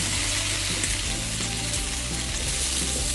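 Anchovies and chopped ingredients fry in hot oil for a chicken rice dish, giving a steady, dense sizzle up close with no talking.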